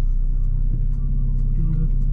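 A 2025 Mercedes CLA 45 S engine hums and rumbles steadily from inside the cabin, a low droning growl as it accelerates under turbo boost.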